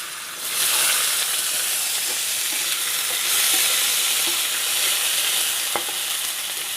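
Cut potatoes dropped into hot oil with black cumin seeds, sizzling and frying loudly and steadily in a pan, with a brief stir or clink near the end and no talking.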